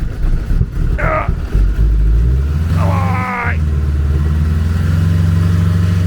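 A car engine under repair rumbles loudly and close by, rising in short revs between steadier running. A voice briefly calls out over the noise.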